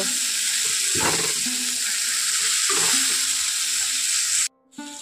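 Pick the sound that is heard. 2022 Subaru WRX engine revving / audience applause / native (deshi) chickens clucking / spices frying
spices frying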